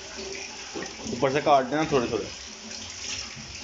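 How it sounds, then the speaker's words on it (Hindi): Tap water running over tomatoes in a sink, a steady splashing flow that swells in the middle while people talk over it. "टमाटर धो लूँ,"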